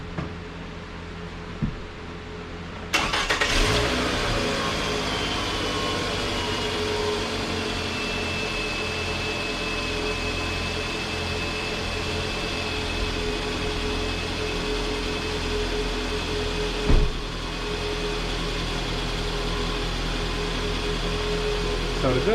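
A Scion xB engine starts after an Agency Power lightweight pulley install, catching with a sudden surge and then settling into a steady, even idle heard close up, with a brief knock near the end.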